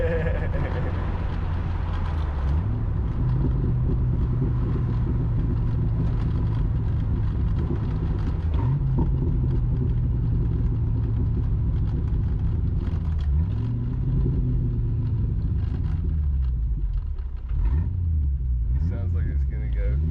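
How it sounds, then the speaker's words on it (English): A 1996 Mustang GT V8, converted from automatic to manual, idles steadily with a deep, loud rumble close by, the low drone wavering in pitch as the warming engine settles. "Finally getting some temperature in the motor."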